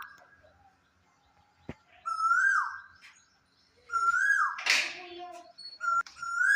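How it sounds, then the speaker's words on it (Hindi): An Asian koel calls from nearby trees outside a home, giving loud rising whistled notes in two bursts separated by a quiet gap, with fainter bird chirps around it. "आपने सुनी होगी ना कोयल की कितनी प्यारी आवाज़ आ रही थी"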